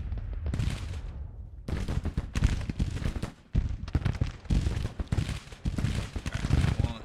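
Musket gunfire in a Civil War game, with repeated loud volleys and crackling shots in bursts broken by short gaps, the firing dense and fairly close.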